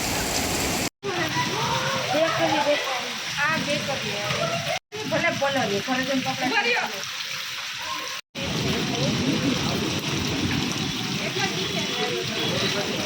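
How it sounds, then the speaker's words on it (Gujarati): Steady heavy rain roars throughout in the Kutiyana market, with voices talking beneath it and a few abrupt cutouts. "જો ધોધમાર વરસાદની સાથે અમે અટાણે આવ્યા કુટિયાણાની બજારમાં"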